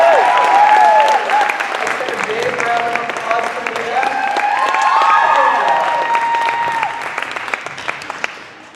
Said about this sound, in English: can you please give a big round of applause to Nina?